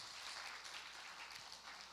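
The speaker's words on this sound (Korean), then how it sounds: "네, 박수 부탁드립니다." Applause fills a church graduation ceremony, a steady wash of many hands clapping at a moderate, even level for the whole stretch, with no voices on top.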